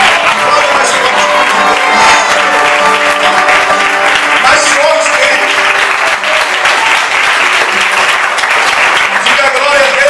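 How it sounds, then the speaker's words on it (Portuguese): A church congregation claps and cheers loudly and continuously at an evangelical service in Alto Vera Cruz, Belo Horizonte, while a voice speaks briefly over the applause. "Aplauda a Deus."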